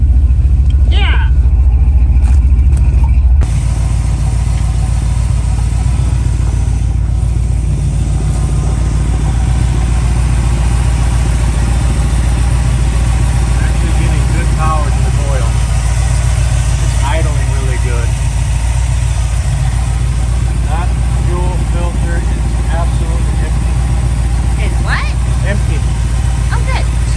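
A 1969 Dodge Dart with ignition trouble runs at a steady, loud idle close by, its low rumble continuous throughout while people talk over it.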